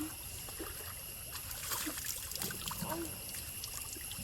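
Soft, steady trickle of a cold stream running over stones outdoors in Malappuram, Kerala, with faint scattered splashes and a low continuous background wash.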